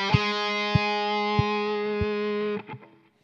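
A distorted electric guitar plays a passage: a held, buzzy note is punctuated by four evenly spaced percussive chugs and then cut off, leaving a short decaying tail.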